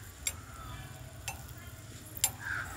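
Papad pieces roast in a tiny miniature pan, giving a faint, quiet sizzle with a few sharp clicks and taps of stirring spaced about a second apart; no talking.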